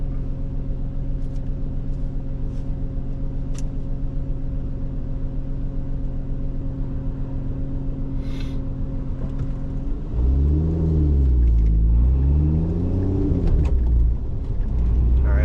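A Lotus Emira fitted with a JB4 and VF Tuner lid drives on a road with traffic, holding a steady, loud engine drone before a sudden rise into a surging, climbing rev as it accelerates hard, heard from inside the cabin.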